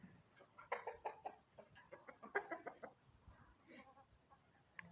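Free-range chickens grazing on grass cluck softly in short, irregular bursts of several birds. The sound is close but quiet, with no talk.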